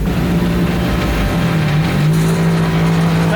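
A turbocharged car engine revs steadily to build boost, a loud, close, sustained drone with a rising and holding pitch and no talk.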